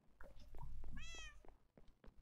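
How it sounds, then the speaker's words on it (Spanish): A cat lets out a single clear, rising and falling meow in a hallway, fairly close, with low rumbling noise and a few thumps around it. "Mira el gato."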